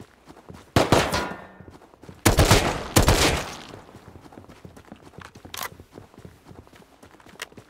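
Gunfire from an NPC scientist shooting at the player in the game Rust: several loud, sharp bursts of rapid shots, with two close together in the middle and a shorter, fainter burst near the end, separated by quiet stretches.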